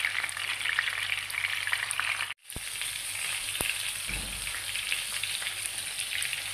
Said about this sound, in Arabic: ندير البطاطا نحمرها من كل جهة باش نقلبها